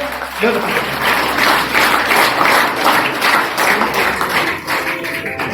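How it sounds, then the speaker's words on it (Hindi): Dense audience applause at an annual function of a public school in Gogamedi as a student comes up to receive an award; continuous clapping from a large crowd, loud and close, with faint voices mixed in. "अनिता के लिए तालियां।"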